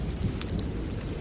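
Steady rain pours through a stormy night by a riverside shop, a dense, unbroken wash of heavy drops with a low thunder rumble underneath, close and continuous, no voices.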